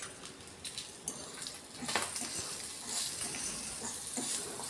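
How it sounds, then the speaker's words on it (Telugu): Salted dry fish fries with crushed garlic cloves in a pan, giving a continuous, close, bright sizzle that swells slightly as the pieces are turned, with a few soft knocks. "ఇలా 2 వైపులా తిప్పుకుంటూ మంచిగా చేపల్ని వేయించుకోవాలి."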